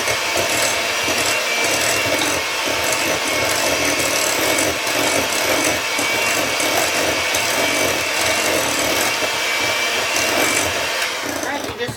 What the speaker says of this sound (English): Now we're going to blend that up.